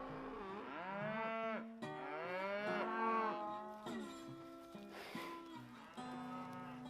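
Cattle on a Texas ranch moo repeatedly, several long, deep, drawn-out calls one after another, close by and loud, with no talking.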